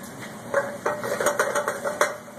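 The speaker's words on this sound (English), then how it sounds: "Browning off my bacon." Bacon browning in a pan during risotto preparation in a culinary class, stirred with a utensil that clatters against the metal in several irregular scrapes and knocks over a soft, steady background.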